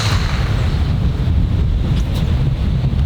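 Strong wind on an open golf course buffets the microphone with a constant loud, rumbling roar that lasts the whole stretch with no pauses.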